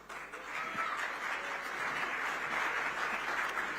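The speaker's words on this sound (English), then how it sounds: "Can we please have a huge round of applause once again for Rishabh?" An awards-ceremony audience in a large hall breaks into sustained applause, a dense even wash of many hands clapping that swells and holds, heard at some distance.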